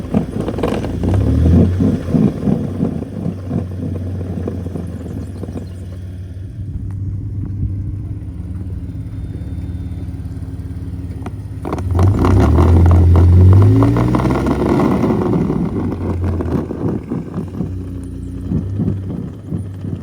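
A stuck Nissan Frontier truck revs its engine while trying to grip on traction boards, giving a steady low rumble that surges louder midway as the engine strains, with faint clatter and no talk.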